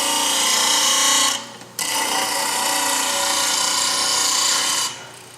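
A bench grinder sharpens a bowl gouge with a loud, continuous abrasive rasp that drops out briefly partway through and then resumes before trailing off near the end.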